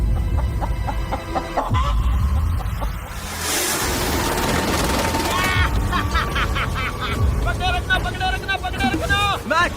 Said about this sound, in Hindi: मैंने मुर्गी पकड़ ली।